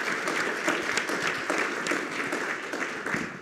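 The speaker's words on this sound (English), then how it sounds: "I want to hear a round of applause for his bipartisan leadership" Audience at a policy event on U.S. competitiveness and national security gives a steady round of applause, dense and sustained throughout with no speech over it.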